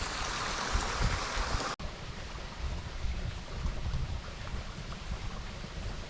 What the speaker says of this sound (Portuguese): Água correndo por tudo que é canto